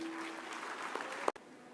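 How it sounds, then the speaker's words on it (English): Applause from an audience at an all-India quiz competition event, a broad steady clatter of clapping that cuts off sharply near the end. "Welcome her with a big round of applause."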